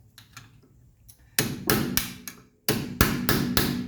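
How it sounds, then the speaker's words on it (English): A screwdriver is tapped against the wheel dust cap of a 1985 Mercedes 300CD to knock it off, giving a series of sharp, close metallic knocks in two quick runs separated by a brief pause. "So first thing we're going to do is just knock off our dust cap, and you can tap these off with a screwdriver"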